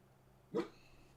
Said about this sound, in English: that's about 7 barks